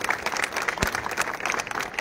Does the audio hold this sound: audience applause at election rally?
yes